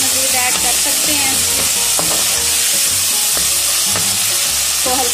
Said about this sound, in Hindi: तो हल्का सा हम भूनते हैं।